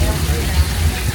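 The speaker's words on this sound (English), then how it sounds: "It can hurt because that rain is so heavy." Heavy artificial rain pours down at a studio tour attraction, a dense, steady broadband roar with strong low rumble, close and continuous, with some voice mixed in.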